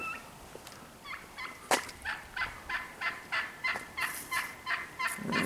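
Wild turkeys gobbling near a creek, a rapid chorus of rhythmic gobbles repeating roughly every half second for several seconds, moderately distant and outdoors, with no talking.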